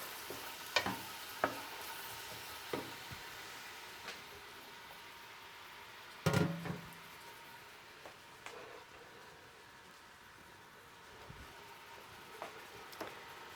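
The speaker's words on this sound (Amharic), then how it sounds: "ቶሎ አማስልና ወደሚቀጥለው ለመጨመር እሄዳለሁ።" Red onions fry in a pot with a soft steady sizzle, broken by occasional clinks and scrapes of stirring, one louder clatter in the middle, all faint and close with no talk.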